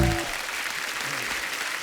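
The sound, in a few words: studio audience applause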